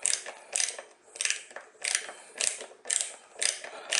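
A short ratchet screwdriver turned back and forth to drive a screw into wood, giving about eight bursts of rapid clicking from the pawl in a steady rhythm. The clicks are close and fairly loud, with no voices.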